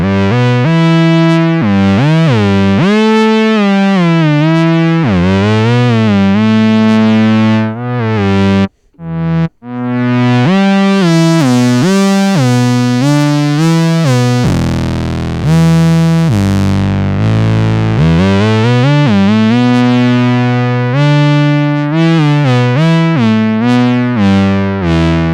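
Korg MS-20 Mini analog synthesizer plays loud, buzzy tones with sweeping filter and pitch glides, bending and wobbling notes continuously, with a brief dropout near the middle and a long low sustained stretch later.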